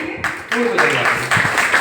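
Audience clapping at a children's cultural program at a temple hall, a broad wash of applause that swells in bursts over about two seconds, with voices mixed in.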